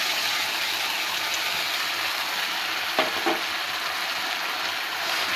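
Spices fry in hot oil for a chicken roast, a dense, steady close sizzle with a couple of faint clinks partway through, no talking.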